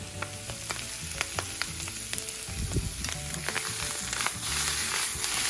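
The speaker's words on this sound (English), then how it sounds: "brown that up just a little bit, and then we'll put in our meat and brown the meat" Onions and beef browning in a home kitchen pan for beef stroganoff, a steady close sizzle and frying crackle with occasional stirring scrapes and clinks throughout, no voices.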